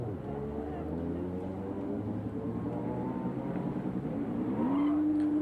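An IMSA GTP prototype race car engine roars steadily on the track at Watkins Glen, with a sustained loud, harmonic-rich drone that rises in pitch near the end as the car passes close.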